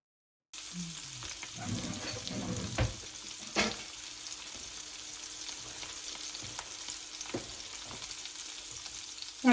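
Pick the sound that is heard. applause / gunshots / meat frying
meat frying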